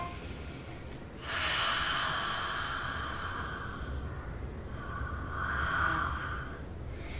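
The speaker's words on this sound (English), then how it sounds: "I want you to breathe out through your mouth" A person blows a long, forceful breath out through the mouth as a breathing exercise. It is a close, loud rush of air that lasts several seconds, swells and fades, then comes again more faintly.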